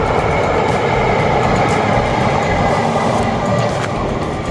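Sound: train passing on railway line

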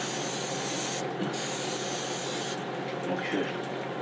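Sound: spraying from a spray can

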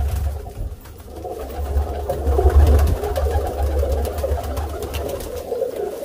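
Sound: teddy pigeons and chicks cooing

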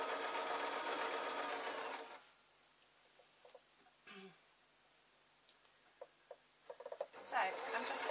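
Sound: serger overlocker sewing an unlined jacket

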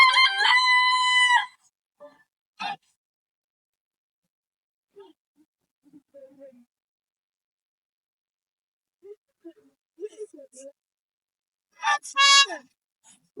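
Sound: chicken clucking and rooster crowing

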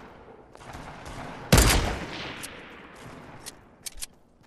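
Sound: gunfire in a video game

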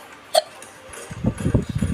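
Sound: hiccup

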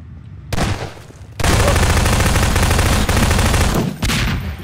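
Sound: gunfire from video game Garry's Mod Prop Hunt

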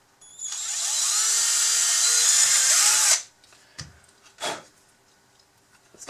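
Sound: drilling through a part

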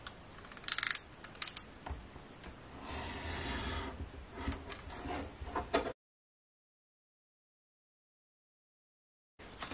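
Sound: cutting a paper tag to size

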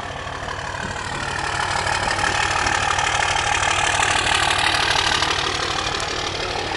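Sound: 2005 Dodge Ram 3500 5.9 exhaust, engine idling

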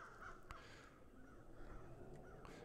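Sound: crows cawing in a video game

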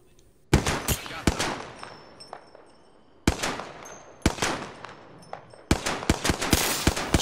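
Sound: pistol gunfire in the video game Apex Legends

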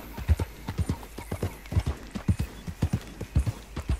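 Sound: horse hooves clip-clopping in video game

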